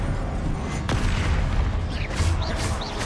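Spell effects from a wizard game's combat fill the air, with a sharp magical crack and boom followed by whooshing, swirling bursts over a dense rumbling background, with no talking.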